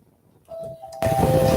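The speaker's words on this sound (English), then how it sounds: "That's the doorbell." A household doorbell rings once, a clear electronic tone that starts quietly and then swells louder over indoor room noise, with no voices.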